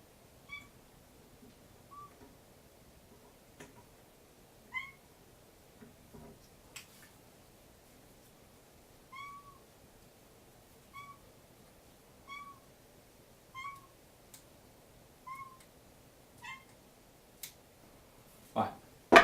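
A cat meows and whines down a hallway, a string of faint, distant, plaintive cries spaced every second or two, with occasional clicks and thumps in a quiet room.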